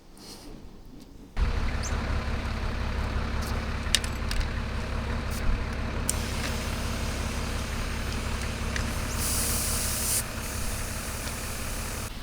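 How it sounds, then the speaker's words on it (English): Air hisses loudly and steadily from an off-road vehicle tyre being deflated on a beach, a broad rushing sound that starts abruptly and holds for over ten seconds. Occasional faint clicks sound over it. "So we're just here airing down the tyres once again"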